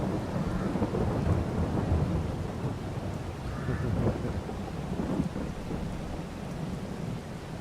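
Steady rain with rumbling thunder in the video game Farming Simulator 22 during a harvest, a continuous dense wash of noise with low rolling rumbles throughout and no talking.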